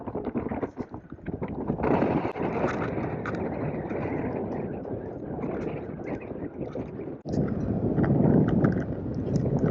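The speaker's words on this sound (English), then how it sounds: "a little windy, but not as bad as yesterday." Strong northeast wind buffets the microphone in a steady, loud rumble with gusty swells, with water and boat rigging noise mixed in, at Boot Key Harbor.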